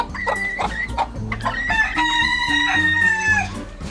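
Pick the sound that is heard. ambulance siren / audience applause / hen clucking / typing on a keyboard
hen clucking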